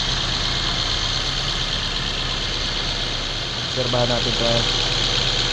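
A Mazda 3 engine idles while warming up with an overheating problem, a steady close rumble running throughout, and someone speaks briefly over it near the end.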